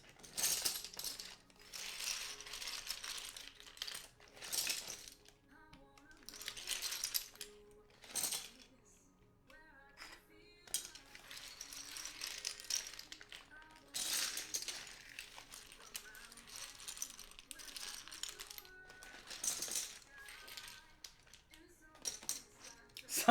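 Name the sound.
ABS keycaps rattling in acrylic case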